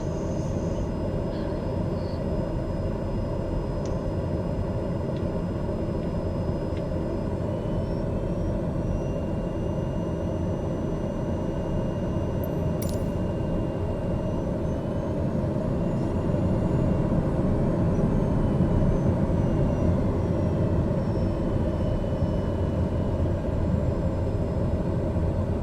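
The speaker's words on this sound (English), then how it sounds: "Let's go ahead and start taxiing out." A small airplane taxis along the runway at Lukla airport, its engine a steady, loud, close drone that holds for the whole stretch and swells a little toward the end, with no voices.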